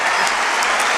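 Brief burst of dense audience clapping at a song performance, steady and full for about a second.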